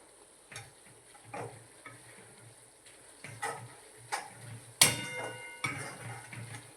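A spoon stirs garam masala with garlic in a pan over a low flame for Gujarati potato bhungla, giving scraping strokes and soft clinks over a faint sizzle, with one sharper knock partway through.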